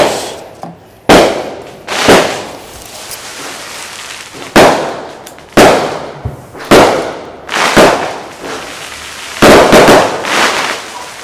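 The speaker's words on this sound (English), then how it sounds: "Damn, fireworks." Fireworks bursting outdoors in a series of about nine loud booming blasts, irregularly spaced, each followed by a crackling decay, with no talk over them.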